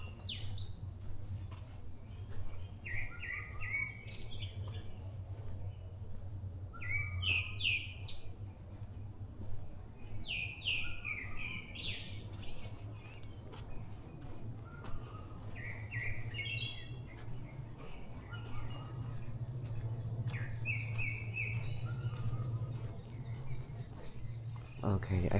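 Korean forest birds on Bongseosan sing and chirp in short, scattered phrases, some near and some farther off, over a steady low hum from a nearby road.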